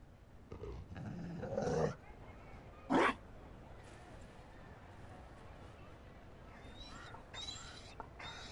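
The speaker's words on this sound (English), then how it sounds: "You found a dog? They don't breed Mabari in Olay." A Mabari war dog in the video game Dragon Age Inquisition gives a growling, woofing vocalization followed by a short sharp bark, with faint chirps in the background and game voices nearby.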